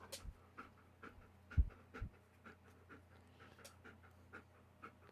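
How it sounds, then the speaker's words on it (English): A female dog pants close by in quick, uneven breaths with a few louder huffs and snorts, faint and alone with no talking. "Everyone say hi to the doggo, Janaya."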